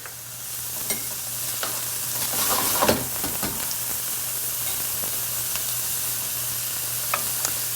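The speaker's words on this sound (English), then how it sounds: "I'm also going to stir in about a 1/2 cup of chopped red bell pepper." Chopped red bell pepper is stirred into a hot pan, giving a steady close sizzle with occasional scraping knocks from the spoon, loud and unbroken throughout.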